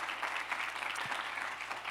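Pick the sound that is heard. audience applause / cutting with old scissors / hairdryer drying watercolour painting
audience applause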